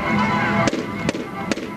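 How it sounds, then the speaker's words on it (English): Field gun firing during the Bolton field gun competition, three sharp reports about half a second apart that cut through a loud crowd and commentary. "three shots are to be fired"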